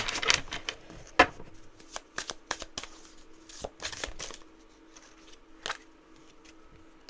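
Oracle cards are shuffled and pulled close by in an irregular series of crisp flicks, taps and slides, with quieter pauses between bursts.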